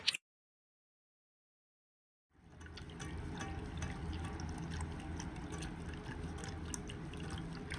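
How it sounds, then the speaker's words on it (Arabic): Half a cup of water pours into a cold saucepan holding a large spoonful of flour for tahini salad. After a brief knock and a moment of silence, a steady, soft splashing stream follows. "هنحط معلقة كبيرة من الدقيق، وعليها وعليها نص كوباية مية"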